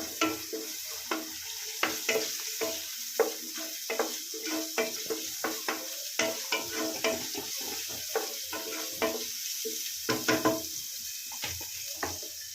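Capsicum, chillies and onion fry in a pan with ginger paste for egg fried rice, giving a soft sizzle broken by regular scraping and stirring clatters, close and moderate, with no talking.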